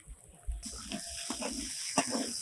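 Mustard oil sprinkled over fried khesari greens, beans and chillies in a pan, giving a soft sizzle that rises suddenly and continues as a quiet, steady hiss with a few light clinks.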